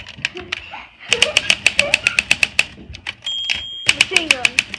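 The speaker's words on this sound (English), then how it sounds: "Micah, don't mess up Dad's typewriter" A manual typewriter's keys clatter in quick bursts of sharp, close clicks, pausing briefly before another rapid flurry, with a faint carriage-bell-like ring and people talking between strokes.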